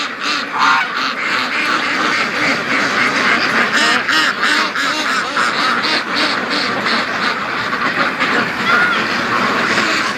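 Dense, continuous quacking from many ducks, many white, loud and close, with calls overlapping throughout and hardly a pause.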